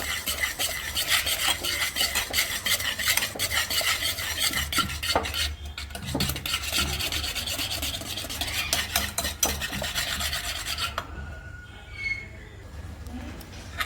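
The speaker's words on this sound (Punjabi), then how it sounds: "ਇਹ ਜੀ ਆਪਣੀ ਦਹੀਂ ਫੈਂਟ ਕੇ ਬਹੁਤ ਸੋਹਣੀ ਬਣ ਗਈ ਹੈ" Yogurt (curd) whisked briskly in a bowl, a continuous close scraping and rattling whir that keeps up for most of the time before easing off near the end.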